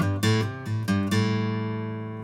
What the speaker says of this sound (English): the song opens with this little intro lick,